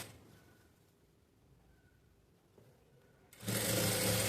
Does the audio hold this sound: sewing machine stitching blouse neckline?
yes